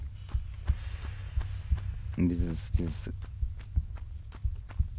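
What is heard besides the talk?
heartbeat background sound in Tomb Raider 1 video game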